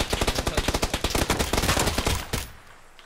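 A rapid burst of close, loud gunfire in the battle royale game PUBG, a quick string of shots for about two seconds before cutting off into quiet.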